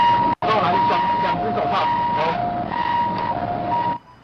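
An ambulance siren wails steadily and loudly at an accident scene where a worker fell from a building, and a narrator speaks over it throughout.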